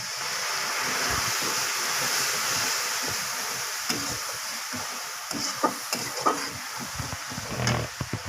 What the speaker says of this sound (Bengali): এখন হালকা জল দিয়ে এটাকে কষিয়ে নেব